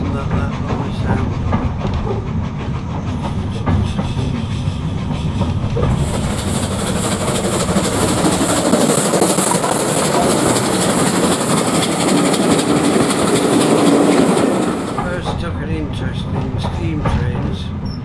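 A passenger train runs at speed on rails, its wheels beating a continuous clickety-clack with rumble and hiss heard from inside, loud and steady, and a brighter hissing wash rising midway before fading back to the rolling rhythm.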